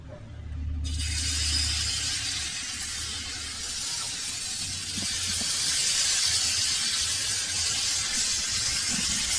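Chocolate dosa batter hits a hot pan and sets off a sudden broad sizzling hiss that holds steady and swells slightly, after a short low hum at the start.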